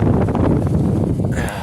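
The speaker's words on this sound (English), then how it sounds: "It's such a windy day." Gusty wind buffets the microphone with a low, rough rumble that surges and fades over a brief moment.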